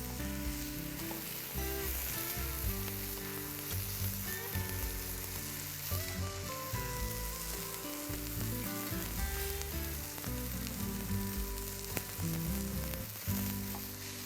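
Chicken stir-fries quickly with coriander and spring onions, a continuous loud sizzle running for the whole stretch beneath prominent background music.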